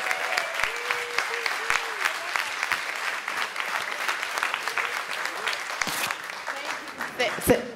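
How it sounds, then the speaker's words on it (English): A gala audience applauds for several seconds after an auction, dense clapping with scattered voices and cheers, fairly close and continuous throughout. "Give yourselves a great big round of applause."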